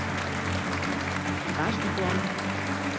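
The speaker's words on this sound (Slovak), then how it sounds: "Verím, že stále za vášho potlesku." Audience applause at the EY Entrepreneur of the Year 2024 awards ceremony in Slovakia, a steady wash of clapping throughout with a speaker's voice talking over it.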